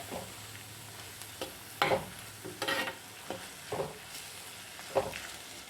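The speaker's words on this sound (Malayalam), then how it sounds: "ഉള്ളി ഏകദേശം ഒന്ന് വഴന്നു വരുന്നുണ്ട് ഒരല്പം കൂടി ഒന്ന് വഴന്നു വരണം" Sliced onions sautéing in a clay pot for an onion curry, with a soft steady sizzle and a few clear stirring scrapes spread through the clip, no talking.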